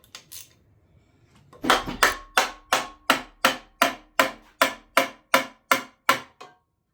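Repeated sharp metallic knocks from work on a turbo diesel Camaro engine teardown as the timing cover comes off, about a dozen evenly spaced, close and loud hits after a quiet start with faint rustling.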